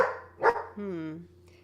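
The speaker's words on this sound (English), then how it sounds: "my dogs heard your dogs" Dogs at home give a single sharp bark followed by a drawn-out whining howl, close by, with a person talking at the start.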